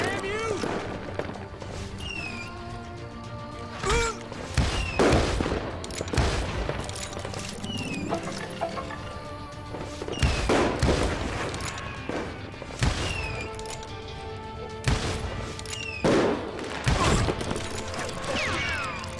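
Shots from the Western shooter Call of Juarez Gunslinger ring out as loud single cracks every few seconds, mixed with clattering game effects, while a voice talks through much of the action.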